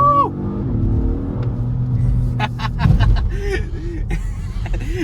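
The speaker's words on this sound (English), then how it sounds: "You push it down to the pedal, the car pushes you back, it rips." A 2023 Acura MDX Type S in Sport Plus mode accelerates hard, its engine a loud, deep, steady drone inside the cabin, while people laugh and talk excitedly over it.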